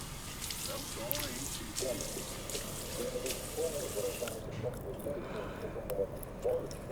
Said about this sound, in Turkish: Allah elim yüzümü yıkadım